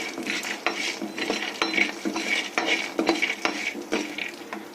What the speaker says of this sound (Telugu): ఇవి ఇప్పుడు బాగా ఫ్రై చేసుకోవాలి